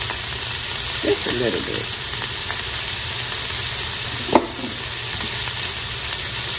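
Seasoned onions fry in a pan with a steady sizzle and hiss, a brief stir and a sharp clatter midway, while a voice speaks briefly over the cooking.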